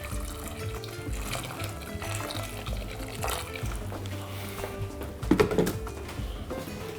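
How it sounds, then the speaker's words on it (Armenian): Boiling water is poured over potatoes in a pot until they are covered. A steady, fairly loud watery rush runs throughout, with a brief sharper splash and clatter near the end. "Վրան եռացրած ջուր ենք լցնում, այնքան որ կարտոֆիլը ծածկվի։"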